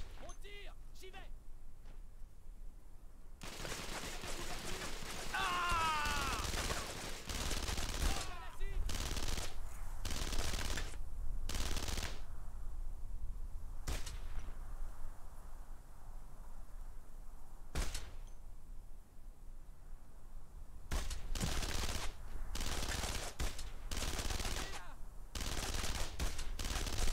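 Gunfire in a PS2 World War II squad shooter, Brothers in Arms: Road to Hill 30: loud bursts of machine-gun and rifle fire come in repeated volleys across the battle, with shouted commands and talk between the salvos.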